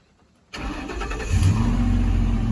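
A 1965 Ford F100 truck engine, a 127,000-mile swap on a Crown Victoria frame, cranks and catches after half a second of quiet, then settles into a steady, close, rumbling run with a slight rise in revs.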